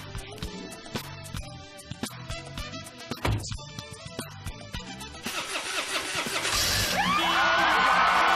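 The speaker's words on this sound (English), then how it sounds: "one of those 6 will start that PT Cruiser" A Chrysler PT Cruiser's engine starts on a game show stage: several clicks and a cranking starter give way to the engine catching and revving up loudly, with crowd noise swelling at the end.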